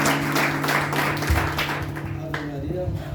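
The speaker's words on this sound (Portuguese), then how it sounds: "Uma salva de palmas para o Espírito Santo" Congregation clapping at a Catholic charismatic congress, a dense round of applause with steady humming tones and some voices mixed in, fading slightly toward the end.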